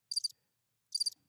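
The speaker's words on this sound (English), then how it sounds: "The crickets." Two short bursts of cricket chirping, each a quick pulsing trill, separated by a pause of silence; close and clear with nothing else audible.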